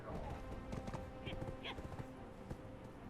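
A horse in the Black Desert Online game trots with a scattered clip-clop of hooves, and two short high whinny-like calls rise in the middle over a steady background hum.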